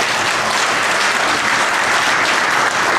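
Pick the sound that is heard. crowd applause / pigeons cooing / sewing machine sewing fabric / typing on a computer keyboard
crowd applause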